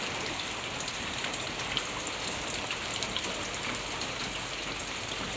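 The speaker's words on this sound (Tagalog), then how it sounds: "Ayan po't nagbuhos na nga po ang ulan." Heavy tropical rain pours steadily down, a dense, constant hiss of drops drumming on surfaces, loud and unbroken with no voices over it.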